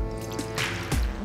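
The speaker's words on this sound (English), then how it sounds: "We're going to add 2 cups of water." Water pours into a pan containing tamari soy sauce, a brief close splashing trickle with a fuller gush near the end, heard alone without talk.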